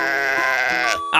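A cartoon sheep in an animated children's story gives one sustained, wavering bleat lasting about a second, loud and close, then cuts off into a brief pause before another sound begins.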